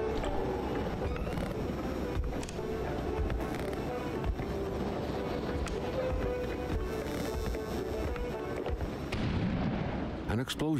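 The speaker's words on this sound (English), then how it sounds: "An explosion suddenly occurred outside." Deep, rumbling explosion booms roll on in a sustained, dense wash, heavy like artillery or fireworks, with faint speech mixed in beneath and a sharper burst near the end.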